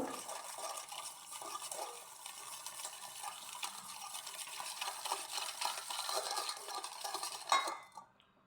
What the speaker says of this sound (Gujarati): એમાં અડધી વાટકી દળેલી ખાંડ નાખશું મિક્સ કરી લેશું